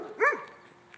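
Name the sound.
dogs barking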